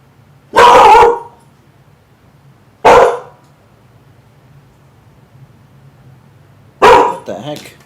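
A dog barks three times in loud, separate bursts, with long gaps of quiet low hum between them, the last bark trailing into a few softer yelps.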